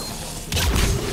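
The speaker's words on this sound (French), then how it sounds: "Oh non, la petite grenade." A grenade going off in Mass Effect 3: one burst of blast and crash about halfway through, landing over a low, steady game backdrop.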